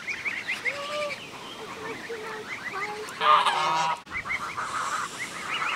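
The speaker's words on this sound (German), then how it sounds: "Meine Frau hat schon Angst vor den Gänse." Geese honk repeatedly in a noisy outdoor flock near flooded land in the Bavarian Forest, loud and close, with a short burst of louder honking and some chirps mixed in.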